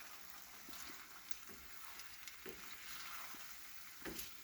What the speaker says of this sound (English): And we're going to let that all sizzle in together.